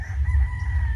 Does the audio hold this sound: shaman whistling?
no